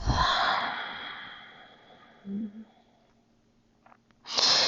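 Breathing during a gratitude yoga session: a long, close exhale that fades out, a brief soft breath sound in the middle, then another sharp inhale near the end.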